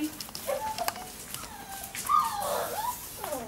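Six dogs whimper and yip nearby, with high whining cries rising and falling over a few seconds and some scuffling in the background.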